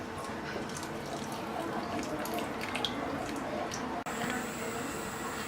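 Remaining milk poured from a container into a pot of rice kheer, a soft steady liquid stream and gentle splashing up close, with a brief clatter near the end.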